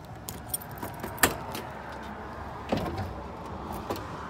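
Original keys for a 1965 Ford Mustang, an ignition key and a trunk key, jangle in short, scattered metallic bursts, close and fairly quiet, over a faint steady background.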